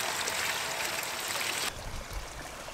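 Water shooting out of a kilowatt microhydro turbine intake pipe with a steady, close rushing hiss that abruptly drops to a softer gurgling flow partway through, no talk.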